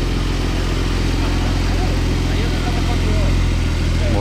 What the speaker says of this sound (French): On a la Porsche qui se gare